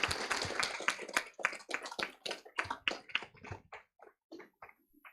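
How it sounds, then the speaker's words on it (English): Audience applause for a panel of speakers at a business summit, a burst of dense clapping that thins out into scattered individual claps and fades by the end. "Big round of applause for our panelists."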